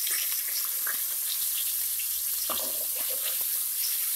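Pieces of Seelavathi fish sizzle steadily in hot oil in a pan for a methi fish curry, a continuous close hiss with a few soft knocks and no talking.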